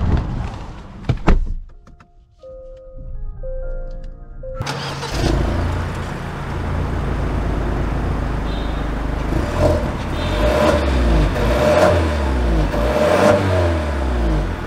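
A 2021 Genesis G80 with the 2.5 liter turbo engine: a door thuds, the engine starts with a brief whir, then settles and rises into steady acceleration as the car drives off, close and clear.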